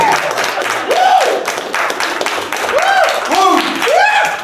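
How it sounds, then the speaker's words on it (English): A late-night talk show studio audience claps loudly throughout, punctuated by several rising and falling whoops and whistles. "let me get a round of applause"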